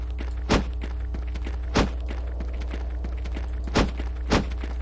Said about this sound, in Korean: 발소리거든.